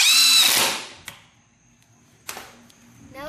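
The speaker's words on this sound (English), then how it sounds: "Now we're putting screws to hold the wood together." A power drill whines briefly as it drives screws into wood for a homemade gymnastics balance beam, followed by a few sharp clicks and knocks in a quiet room.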